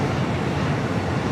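A heavy airliner on takeoff from runway 25 Right at LAX, a steady low engine roar heard from a distance, continuous and even with no other sounds.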